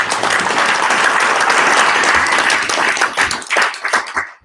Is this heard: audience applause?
yes